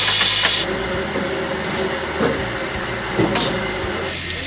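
Steam hisses loudly and continuously from a steam locomotive being fired up for the day's running on a heritage railway, a broad roaring rush with faint clanks and knocks underneath.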